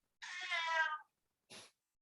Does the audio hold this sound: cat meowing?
yes